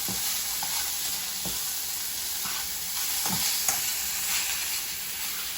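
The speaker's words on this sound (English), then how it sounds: "We're going to add the peas. They're frozen, so I add those next because they need a little bit more time to cook." Frozen peas frying in a pan of leftover fried rice, a bright steady sizzle close by with a few soft scrapes and knocks of stirring, no talking.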